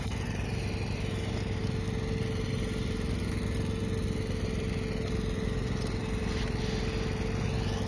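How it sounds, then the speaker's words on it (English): A machine drills holes in the soil around chestnut trees, giving a loud, unbroken droning engine rumble with a steady whine that stays constant from start to finish. "This is a little bit of what the process looks like here when the holes are drilled."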